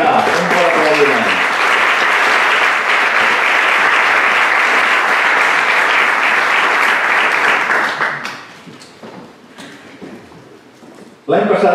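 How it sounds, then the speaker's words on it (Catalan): A theatre audience at an anniversary event for a theatre group gives a long, full round of applause lasting about eight seconds. It thins to scattered claps and room noise, then a voice speaks near the end. "Vinga, un bon aplaudiment."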